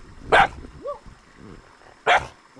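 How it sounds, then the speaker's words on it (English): A small dog barks twice in sharp, separate yaps with a soft whine between, fairly close in a quiet outdoor setting, with no talk. "we have a small coco dog"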